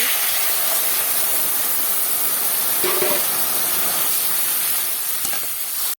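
Water hits a hot pan of fried spices with cumin powder, a steady loud hiss and sizzle that holds evenly for several seconds with a few faint clinks.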